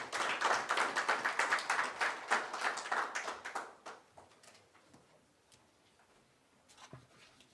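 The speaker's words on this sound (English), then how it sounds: "A round of applause as she comes to the stage." An audience at a United Nations event claps as a speaker comes to the stage; scattered, fairly close hand claps build to a brisk patter, then thin out to a few isolated claps.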